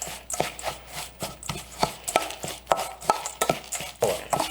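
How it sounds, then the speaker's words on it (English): A spoon stirs granola filling mixed with nutmeg, craisins and melted butter in a bowl, making a run of quick, close scraping clicks at an uneven rhythm, with no talking. "Now I'm just going to give that a stir."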